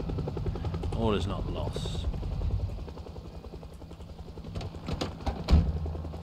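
Helicopter in the NOMAD video game, a steady low rotor drone running throughout under a man's speech, with a brief louder thump near the end.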